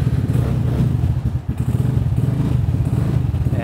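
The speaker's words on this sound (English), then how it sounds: "it's got the Akrapovic Sprint specific exhaust system, completely unbaffled. So it's extra noisy and loud." A loud, raw Vespa Sprint 150 racing scooter engine with an unbaffled Akrapovic exhaust, a steady throaty rumble close by, with a brief dip in the middle, no voices.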